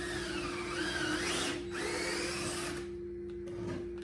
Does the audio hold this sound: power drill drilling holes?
yes